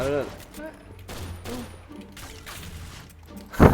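Bursts of rapid gunfire from the online shooter game Point Blank crackle over a voice talking, ending in a loud close blast.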